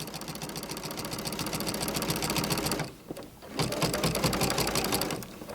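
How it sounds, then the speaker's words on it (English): A sewing machine fitted with a walking foot sews binding through the layers of a quilt in a fast, even, close stitching rhythm, with a brief pause midway before it resumes. "I'm going to stitch using this 1/2 inch seam allowance"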